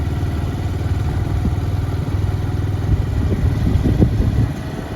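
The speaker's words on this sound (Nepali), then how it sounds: "सो म चाहिँ बाइक लिएर भित्र इन हुँदैछु" A motorcycle engine idles and putters close by as the bike rolls slowly in through a park gate toward parking, a steady low rumble with light clatter.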